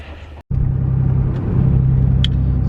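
Car pulling out of a junkyard, a low steady engine rumble heard from inside the cabin after a brief dropout, with a light clack near the end.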